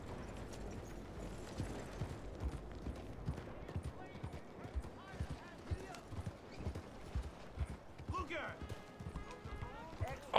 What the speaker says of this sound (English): You can hear the gallop.